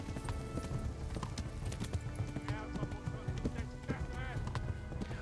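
Horse hoofbeats while riding in Kingdom Come: Deliverance, a steady rhythmic clip-clop with occasional whinnies, heard quietly beneath a person talking.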